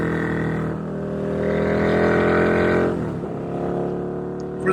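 A KTM Superduke 1290R motorcycle with Bren tuning runs close by, its engine rising in a loud rev, holding, dropping off and then climbing again in a strong harmonic drone.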